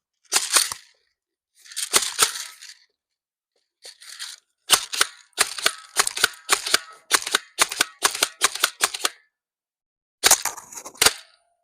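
A cheap airsoft gun being rapid fired, heard as sharp, loud, close snaps in quick bursts separated by short pauses, with no talking.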